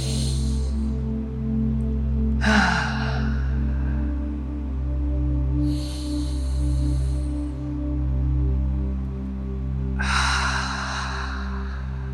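Slow, deep breaths during a calm breathing exercise, three or four audible airy inhales and exhales spaced several seconds apart over a steady low background hum, with no talking.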